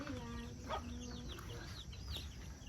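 Chickens cluck at an outdoor campsite on Mt. Mataba, a few brief calls rising over steady low background rumble, with no talking.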